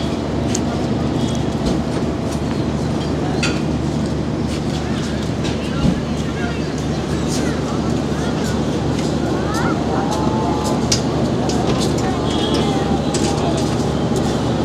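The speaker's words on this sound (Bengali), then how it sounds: "এইমাত্র ধীরে ধীরে ট্রেনটি চলা শুরু করলো।" The Rupsha Express slowly pulls out of Kotchandpur station: a loud, steady low rumble of the moving train fills the whole stretch, with faint voices mixed into the background.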